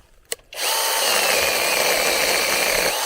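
A small 6-inch pruning chainsaw starts up and runs steadily at high revs while cutting walnut tree limbs, loud and close, with a brief click just before the motor kicks in.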